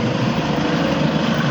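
A Volkswagen Golf 2.0 TDI GTD diesel engine runs steadily at idle, a close, even, dense rumble with a faint buzzing edge and no change across the brief moment.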